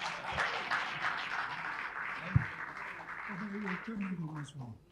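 Audience applause at a public book presentation, a broad wash of clapping from a crowd sustained across the whole stretch, moderately loud, with a sharp thump partway through and a faint voice underneath near the end.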